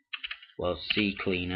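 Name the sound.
typing on a computer keyboard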